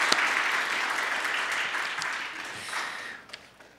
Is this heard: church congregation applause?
yes